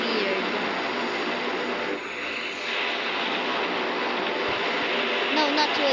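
A steady, loud roar of airplane engines fills the cabin during flight, continuous broadband rushing with a short dip midway, while people talk softly in the background.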